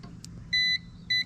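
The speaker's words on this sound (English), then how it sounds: "We want to hear that beep." Two short, clear electronic beeps from a continuity tester checking a garbage truck's wiring, evenly spaced about half a second apart, over faint background noise.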